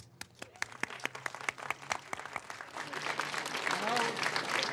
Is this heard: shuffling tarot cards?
no